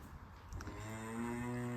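Cows on a farm mooing, with a long, loud, rising low moo that swells and holds steady near the microphone after a brief quieter start; no talk.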